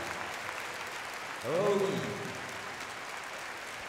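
Audience at the 2014 World Cup Final Grand Prix Freestyle dressage applauding Korean rider DongSeon Kim, a short, faint swell of distant clapping over a quiet hall, with a brief spoken exclamation.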